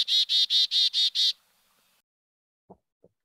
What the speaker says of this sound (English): So here's the chickadee call.